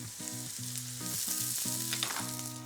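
Halved cherry tomatoes frying in a pan, with a close, steady sizzle and crackle and soft stirring scrapes, no talking.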